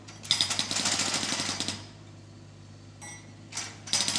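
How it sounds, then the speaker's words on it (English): A digger's hydraulic hammer pounds pavement in a rapid, rattling burst, pauses while the engine hums, then resumes in shorter bursts, fairly close and loud. "The clever digger can spin all the way around and hammer on the other side too."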